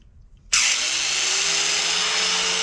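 A power tool starts abruptly and runs loud and steady, cutting the welded brackets off a CSC RX4 motorcycle swingarm, a continuous high whine with a faint tonal drone underneath, close and alone without talk.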